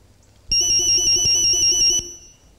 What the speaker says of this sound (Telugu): ఇదేంటి నా సెల్ కూడా రింగ్ అవుతుంది? ఎక్కడ మోగుతుంది?